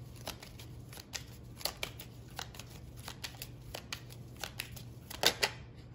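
Tarot cards are shuffled close by in a quiet room, with a series of crisp riffling snaps and flutters repeating irregularly, ending in a few quick louder card flicks.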